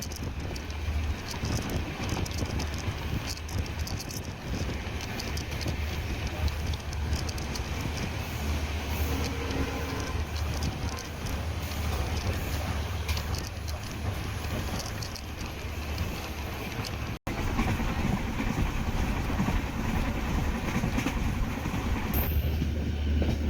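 The Tambaram to Rameswaram Express passenger train, hauled by a diesel locomotive from Villupuram, runs steadily with a continuous low rolling rumble, faint rhythmic rail clatter and wind noise lasting over twenty seconds, with no talking.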